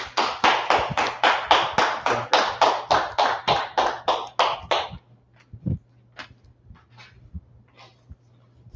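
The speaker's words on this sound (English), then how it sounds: "Clap it up for the class." An audience applauds a class with a burst of quick, even hand claps that run for several seconds and then stop abruptly, leaving a low hum and a few scattered taps and knocks in the room.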